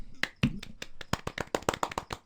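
Soft, sparse hand claps patter for a podcast guest, a dozen or so light irregular claps spread over a couple of seconds, close and dry.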